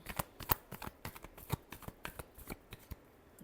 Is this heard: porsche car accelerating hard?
no